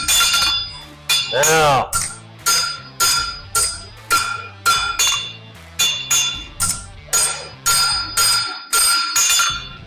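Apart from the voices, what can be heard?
hammer blows forging a railroad spike into a knife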